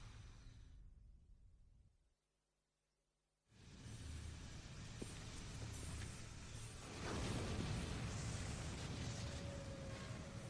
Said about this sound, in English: That's cannon fire.